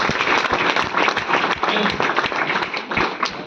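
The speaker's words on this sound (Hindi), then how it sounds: "तो एक बार जोरदार तालियां मिस्टर महिपाल सर के लिए" An audience breaks into loud, sustained applause for Mr. Mahipal at a live event, a dense wash of clapping hands that stays steady from start to finish.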